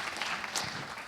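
Short burst of audience applause at a diploma and award presentation ceremony, soft and somewhat distant clapping from a modest crowd with no voice over it.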